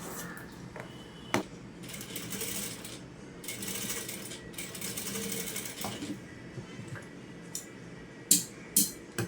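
Sewing machine stitching a katori blouse, its lining already joined, with steady rapid needle chatter running in bursts and a few sharp clicks near the end, close and alone without talk.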